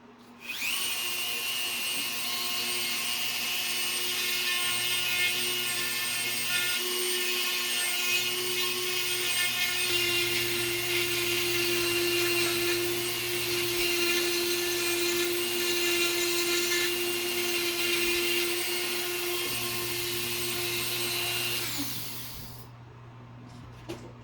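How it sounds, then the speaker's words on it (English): A rotary tool fitted with a coarse Cutzall burr carves an oak pipe bowl at around 2,000 RPM, a steady high-pitched whine with gritty grinding that runs for over twenty seconds before cutting out. "Now that Cutzall coarse burr tool takes a lot of material off"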